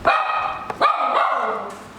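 A jumpy female rescue dog, whose damaged leg was amputated, gives two loud, close, high-pitched barks in quick succession with no talking over them.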